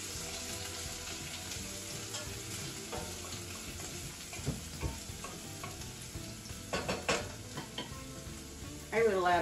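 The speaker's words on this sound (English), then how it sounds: "I will let it saute for about 2 minutes before I add other ingredients" Onions and garlic sautéing in a pan for vegan spaghetti squash, a low steady sizzle with occasional clinks and stirring scrapes, growing a little louder near the end.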